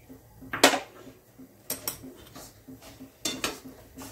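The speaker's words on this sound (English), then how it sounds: "Mix it well and roast it well also." A spoon stirs and scrapes spice powders roasting in a pan for homemade sambhar masala, giving sharp metallic clinks and scrapes at irregular intervals over a soft background, close up with no talking.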